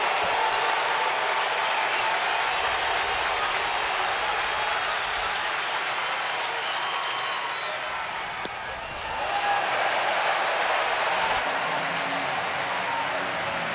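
A stadium crowd at a Braves–Phillies baseball game roars and claps in a steady loud wash that dips briefly and swells again, with a commentator's voice running over it.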